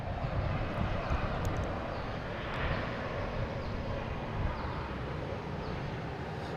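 A Swiss airliner bound for Zurich takes off from Boston Logan, a loud, continuous jet roar with a heavy low rumble that swells slightly now and then and carries on unbroken.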